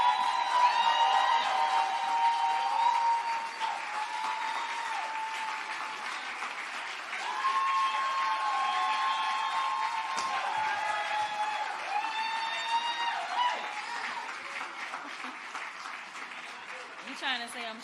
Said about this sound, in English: Could you all join me in giving a big round of applause for our champion, U.S. Congresswoman Jasmine Crockett.